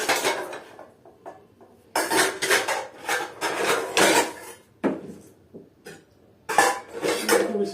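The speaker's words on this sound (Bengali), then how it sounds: "বাসন নিয়ে চলে এসেছি" Metal utensils clatter and scrape in a run of sharp, irregular clanks and rubs, loud and close, with short pauses and no speech.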